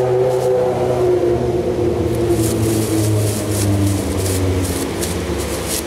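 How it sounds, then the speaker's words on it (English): Steady traffic noise from passing vehicles and motorcycles near an outdoor spray-painting spot, a continuous loud rumble with engines swelling and fading as they go by, no voices. "Lots of vehicles and motorcycles around here."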